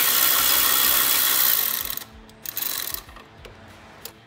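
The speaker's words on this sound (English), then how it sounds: "you're gonna remove that 8 millimeter bolt right there. And that's to the heat shield for the starter." Ratchet wrench clicking steadily for about two seconds while backing out an 8 millimeter bolt from the starter heat shield on a Dodge Charger, followed by a few scattered metallic ticks and taps as the bolt comes free, close up with no talking.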